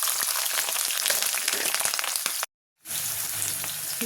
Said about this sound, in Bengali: এবার আমি পেঁয়াজ কুচি আর মরিচ কুচিগুলো দিয়ে দিচ্ছি